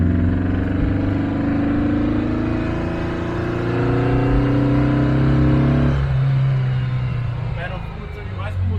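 A 1957 car engine idling at roughly 1800 RPM with a lean-running mixture, a steady low drone with harmonic bands that drops in pitch near the end, with a voice speaking over it.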